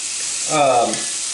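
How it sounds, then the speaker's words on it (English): Venison stew meat browns in a hot pan over low heat, giving a brief close sizzle with a short stirring swell in the middle. "You can see that venison's cooking up real good, and we're going to brown it off."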